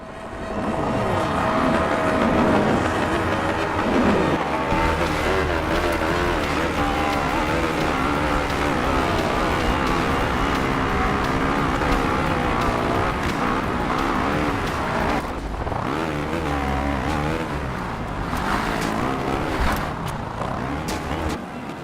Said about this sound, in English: the bike engine sound seemed to overpower everything else